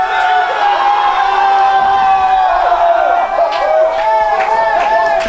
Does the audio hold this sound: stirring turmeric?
no